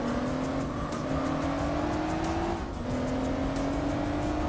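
Racing car engine in Gran Turismo 4 droning steadily at high revs, pitch climbing gradually, dropping with a gear shift, then climbing again, with game sounds behind.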